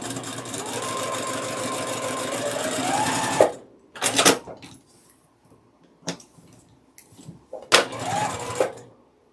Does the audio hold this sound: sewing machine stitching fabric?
yes